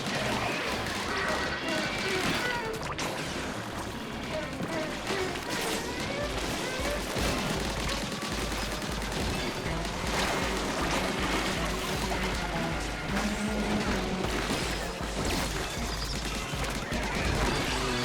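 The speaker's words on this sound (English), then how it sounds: "God, there's so many fucking missiles." Missiles explode in Splatoon Raiders, a dense, continuous barrage of crashes and impacts layered over busy game sound, with a voice talking throughout.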